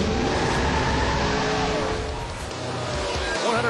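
A NASCAR stock car spins across the racetrack at a 2007 race, with a loud, steady roar of engines and tire noise, while commentary carries on over it.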